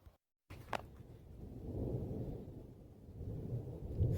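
Low rolling thunder rumbles steadily through a storm, building after a brief pause and swelling louder toward the end, with no voices present.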